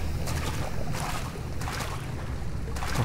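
Steady, enveloping water ambience in the horror game Amnesia: Justine, a continuous rushing, lapping wash with gentle swells and no voices.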